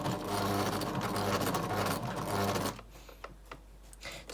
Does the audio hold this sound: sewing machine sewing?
yes